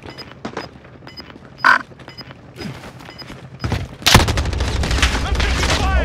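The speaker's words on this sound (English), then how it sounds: "I'm taking fire!" Gunfire in a video game crackles in quick bursts, ending in a loud, sustained volley, with speech-like grunts and voices scattered among the shots.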